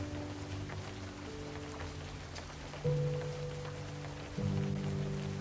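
Steady rain patters softly over a low, droning background with sustained tones, faint and continuous throughout.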